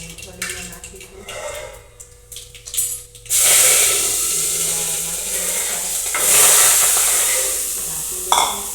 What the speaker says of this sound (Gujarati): આપણે એમાં હિંગ અને મીઠો લીમડો નાખીશું.